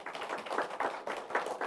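An audience at a Bible lecture gathering bursts into applause, a brief run of close, rhythmic clapping with no talk over it.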